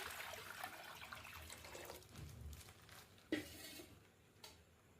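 Water poured into a cooking pot over a lit gas stove for noodles, a steady splashing pour for about two seconds that thins out, followed by a few light clanks and drips.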